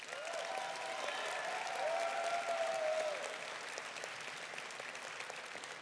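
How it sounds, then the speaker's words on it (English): Audience at a FIRST Robotics district championship applauding the sponsor Haas, sustained even clapping in a large hall with a brief whistle-like tone over it. "So a big round of applause for Haas."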